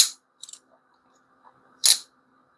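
Flytanium Arcade folding knife opening and closing: a few crisp metallic clicks, a short pause, then one louder, sharper snap, all close and alone against silence.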